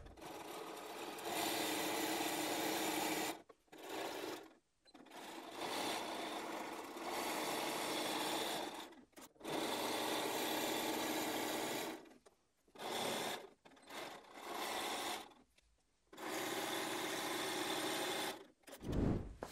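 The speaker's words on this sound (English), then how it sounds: "I'm going over to the machine and I'm going to sew all the way down there and all the way down there using a 1/4 inch seam" A sewing machine runs in long steady bursts stitching a quarter-inch seam on fabric for a book cushion, loud and close, with short pauses and stops between runs.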